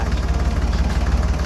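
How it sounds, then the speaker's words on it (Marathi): A tractor engine runs steadily out in farm fields, a low continuous idling rumble with a faint rhythmic throb, fairly close and alone with no talk. "ते समोर आहे ट्रॅक्टर"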